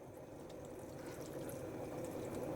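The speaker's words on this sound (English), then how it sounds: "I'm just going to put a little bit of water in it." Water poured into a pot on a kitchen stove makes a soft, continuous trickling that slowly grows fuller and a little louder as the pot fills, quiet and without talk.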